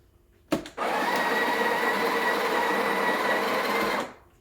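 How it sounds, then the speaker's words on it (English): A Breville Barista Express BES870 grinder purges old coffee grounds after a bean change, starting with a short click and then giving a steady, loud, whirring grind for about three seconds before it cuts off. "So a purge is when you just grind and get rid of the old grinds."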